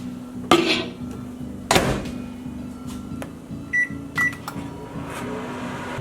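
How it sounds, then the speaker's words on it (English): A kitchen microwave oven heating an egg-white and protein mixture, a low steady hum running the whole time, broken by a couple of sharp clunks and a few short electronic beeps near the end. "back in the microwave for another minute."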